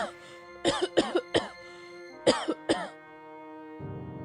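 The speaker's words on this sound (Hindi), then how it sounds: "वो लगातार खांसती रही और कमजोरी से उसका शरीर कांपने लगा।" A woman coughs in two close bursts of harsh, repeated coughs, loud and near, with a short pause between them and a quiet rustle afterward.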